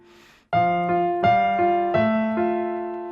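After a brief faint moment, a keyboard begins a Handel melody over a flowing Alberti bass, with bright, evenly paced struck notes that ring and fade in a steady pattern, close and unaccompanied by speech.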